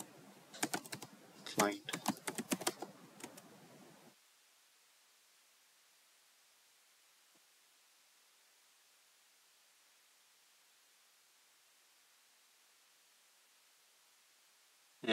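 Quick, light keystrokes on a computer keyboard rattle in a close burst for about four seconds, then give way to near silence apart from a soft hiss. A brief voice speaks over the typing.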